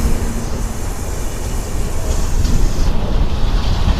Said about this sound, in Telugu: ఇప్పుడే మన ట్రైన్ అయితే వస్తుంది బ్యూటిఫుల్ AAP7 లోకోమోటివ్.